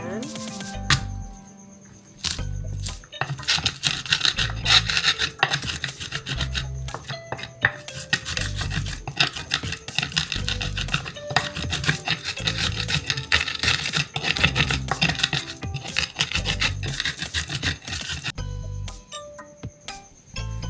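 Spices for vegetable fritters are ground by hand, a steady rhythmic scraping and rubbing of stone on stone that repeats for about twenty seconds, close and moderately loud, with no talk.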